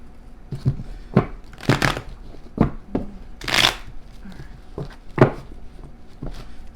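Tarot cards being shuffled close up in a run of sharp riffling bursts and soft taps, about a dozen quick strokes with brief pauses between them.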